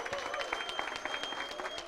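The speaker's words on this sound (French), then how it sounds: "applaudissez vraiment toute l'équipe" A church congregation applauds the choir at a Christmas celebration, with steady dense clapping throughout and voices mixed in.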